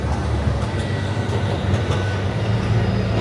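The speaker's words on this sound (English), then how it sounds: "There's the tram running through." Continuous rumbling and rattling of a tram rolling past on a street in Florence, Italy, moderately loud, with faint clicking from the wheels over the tracks.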